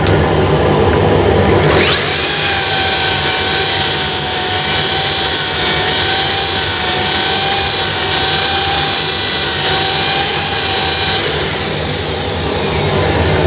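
Sanding a turned wood piece with 180 grit sandpaper on a lathe: a loud, steady high-pitched whine starts abruptly, holds evenly for about nine seconds, then winds down.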